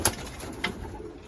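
Gerard Koopman racing pigeons in a loft in Seguin, Texas, give a soft, brief coo or two at low volume over quiet background noise.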